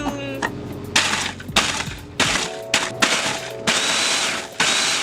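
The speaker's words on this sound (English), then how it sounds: "Then pop it all into the food processor, do a zoom." Food processor whirring in repeated short pulses as butter and crumbs are blended for a cheesecake base, each burst starting with a thunk, fairly loud and close with brief pauses between.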